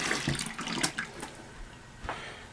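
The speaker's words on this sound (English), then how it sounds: "I'm going to wet down my brush" Water from a faucet runs over a shaving brush as it is wetted: a close, splashy, uneven trickle with a few louder gushes, moderately quiet and heard alone without talking.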